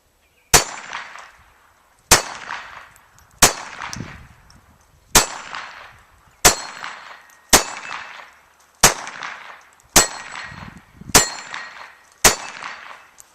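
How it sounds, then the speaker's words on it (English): Ruger SR22 pistol firing CCI .22 rimfire rounds: ten sharp, close shots spaced about a second and a half apart, each a crisp crack with a short ringing decay, no talking between them. "So I'll shoot the CCI first."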